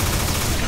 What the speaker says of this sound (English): Photon cannon!